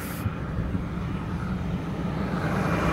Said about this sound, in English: And here come these two trucks.